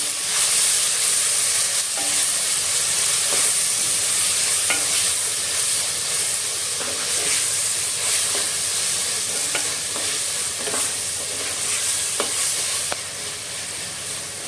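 Tomatoes and green chillies frying with cooked onions in a pan for an anchovy fish curry, a steady loud sizzle with stirring scrapes and small pops running throughout, no talking.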